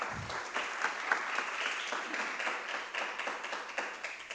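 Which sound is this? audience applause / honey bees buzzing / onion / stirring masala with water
audience applause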